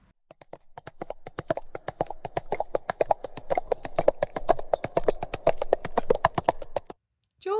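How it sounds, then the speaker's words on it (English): Steady clip-clop of horse hooves, a brisk regular trot of sharp knocks that carries on for several seconds, then stops abruptly. "the sound is a horse"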